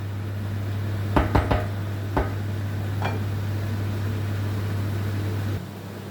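Onions and peppers being stirred in a pan for Turkish menemen, a handful of sharp metallic scrapes and clinks of a utensil against the pan over a steady low kitchen hum, spaced irregularly and then fading into quiet.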